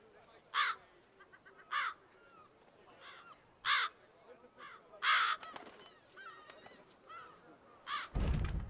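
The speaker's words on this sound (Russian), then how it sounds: "И вороны здесь живут." Crows caw repeatedly in a scene from the video game The Witcher 3: Blood and Wine, with harsh calls coming in a loose, uneven rhythm. A louder rustling burst comes at the end.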